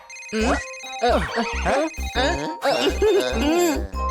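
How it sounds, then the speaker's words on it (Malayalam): A telephone rings in a kids' cartoon, a bright, warbling electronic ringtone with a pulsing, repeated pattern and a soft thump under each burst, loud and close. "ദാ കിറ്റി എന്നെ ഫോണിൽ വിളിക്കുന്നു"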